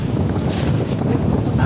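Strong wind on a boat at sea buffets the microphone in a continuous roar, with a broad rushing noise and low gusty thumps.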